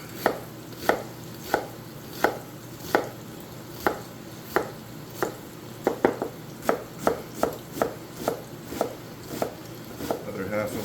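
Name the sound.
chopping an onion with a knife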